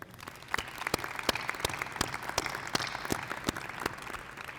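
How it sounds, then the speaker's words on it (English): An audience at a spring senior breakfast gives a round of applause, a dense, steady patter of many hands clapping at moderate volume throughout, with no speech over it. "let's give all of them a round of applause."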